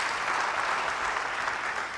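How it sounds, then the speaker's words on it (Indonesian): Church congregation applauding during a sermon, a steady, dense wash of clapping that holds evenly for the whole stretch with no voices over it. "Yang setuju beri tepuk tangan bagi dia"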